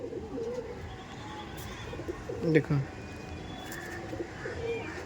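Malbai pigeons in a loft give low, soft coos and a few brief chirps, fairly faint and mostly under people talking nearby, with one louder cluster of calls midway.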